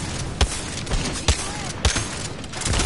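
Gunfire in the video game Apex Legends, three or four sharp separate shots spaced about half a second apart over a steady background din, with a voice faintly present.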